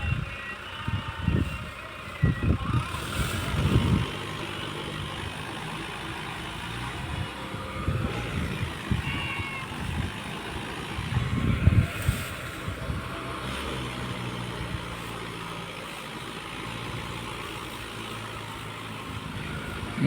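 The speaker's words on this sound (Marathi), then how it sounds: "दुसरा ट्रॅक्टर आला आहे बघा" A Mahindra 605 tractor hauling a heavy load struggles up a slope. Its engine drones at low pitch with uneven surges and rattles, heard at moderate distance against outdoor background noise.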